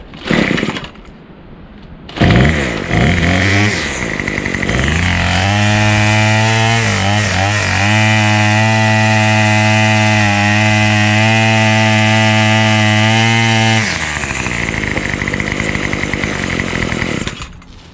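A Craftsman 71120 27cc two-stroke weed trimmer with a replacement carburetor is pulled, starts after a brief pause, revs up, then holds a loud, steady buzzing idle up close for about ten seconds before dropping back.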